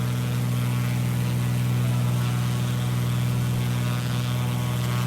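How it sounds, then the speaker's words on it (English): A steady, droning propeller aircraft engine in the Microsoft Flight Simulator game, a constant low hum that holds evenly throughout with no voices. "Sounds like a plane, Waylon."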